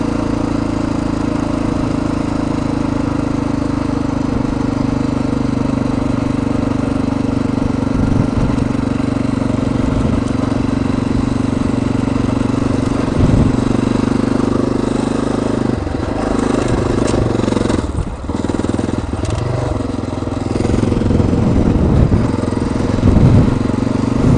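A motorcycle with a leaking carburetor idles steadily at low revs while the rider slows on Mt. Herman Road, with a rough mid-pitched engine putter, some clattering and a few brief dips and blips near the end.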